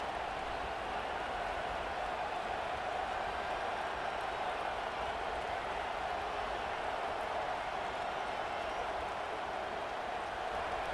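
A stadium crowd in the College Football 26 video game roars nonstop in a dense, loud, unbroken wall of cheering after a failed fourth-down conversion, with no voices standing out.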